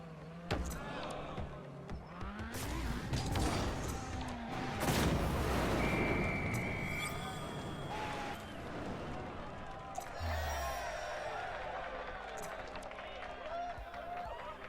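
A small office crowd of the Psyonix team cheers and shouts in Rocket League, a dense, steady wash of excited voices with a few brighter whoops rising over the mix.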